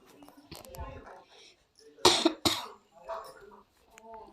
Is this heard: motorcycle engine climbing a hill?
no